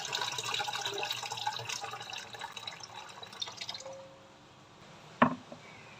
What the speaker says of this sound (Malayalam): പിന്നെ ഇതിലേക്ക് നമുക്ക് കുറേ അധികം വെള്ളം ഒഴിച്ചിട്ടാം.